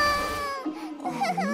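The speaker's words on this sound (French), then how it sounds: "Ne pleure plus, mon bébé." An animated baby girl cries in sobbing, harmonic wails that begin loud and then break into short whimpering catches, heard alone with no talk over it.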